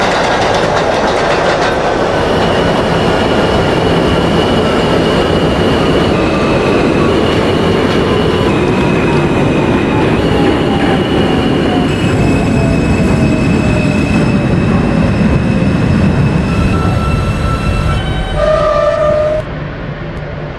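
Simulated R160A eight-car subway train on the J line in the OpenBVE game, rumbling steadily with rail clatter and long squealing wheel tones throughout, loud and close, ending with a short high chime as it slows.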